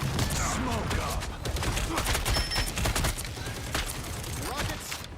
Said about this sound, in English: Rockets, fire!